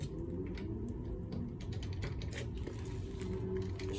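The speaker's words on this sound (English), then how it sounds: "we're gonna go ahead and torque these back down right quick" A ratchet torquing bolts on a Honda Accord rear brake job, heard as close, steady mechanical clicking over a continuous low hum.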